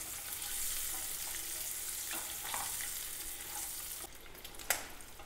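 Quail eggs frying in hot oil in a pan sizzle with a steady hiss, broken by a few faint scrapes and a brief clink near the end.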